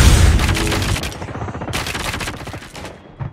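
Gunfire in Call of Duty Mobile multiplayer on the Nuketown map, loud rapid bursts and automatic fire with a brief pause, then more shots and a final thump.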